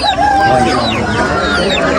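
Several roosters crow and hens cluck close by at a Namangan fighting-cock market, a busy overlapping chorus with a voice briefly heard underneath.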